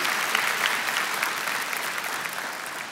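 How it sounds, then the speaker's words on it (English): A large commencement audience at a community college claps steadily, a dense and even wash of applause across the whole stretch. "Now we clap."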